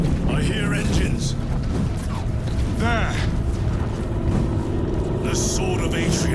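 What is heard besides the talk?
engines rumbling in Space Marine 2 video game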